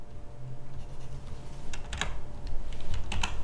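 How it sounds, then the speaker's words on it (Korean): Close, quick computer keyboard typing with clustered key clicks, ending in firmer key strikes like Enter being pressed, with no talk. "제가 localhost라고 입력을 하고 엔터를 땅 치는 순간에"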